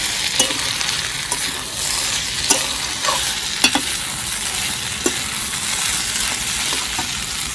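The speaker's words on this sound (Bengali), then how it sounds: "এদিকে এখন আলু ভাজা হচ্ছে" Potatoes frying in a pan on a village wood-fired clay stove, a loud steady sizzle punctuated by repeated scraping stirs and light knocks of the spatula, no voices.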